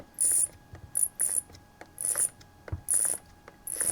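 A faulty Milwaukee jigsaw's mechanism is turned by hand, clicking and ratcheting in a series of short, fairly regular bursts, close by, with quiet gaps between each turn.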